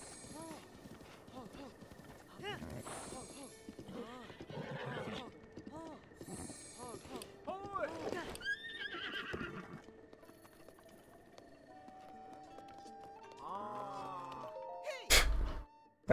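A horse in Zelda: Breath of the Wild whinnies several times in a shrill, wavering call. Clip-clop hoofbeats and other game effects surround it, ending in a sharp, loud hit.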